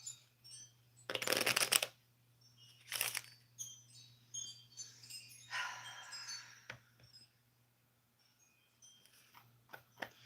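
Oracle cards shuffled by hand up close, a loud riffle followed by a few softer bursts and light handling noises, then scattered small rustles in a quiet room.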